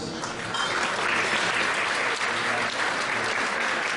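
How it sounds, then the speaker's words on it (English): An audience at a Korean American anniversary gala show applauds the Korean Consul General, producing a full, steady wash of clapping that swells slightly mid-way and continues without speech. "Round of applause, please."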